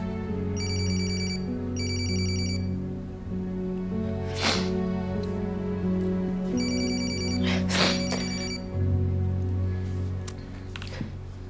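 A telephone rings in repeated double bursts of electronic ringing, loud and steady, with a few sharp knocks and background sounds between the rings and no talk over it.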